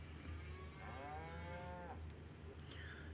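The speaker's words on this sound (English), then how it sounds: "So we do have some cows going" Cows mooing on a farm, one long drawn-out low moo rising and falling in the middle, with a fainter call near the end over a steady low background hum.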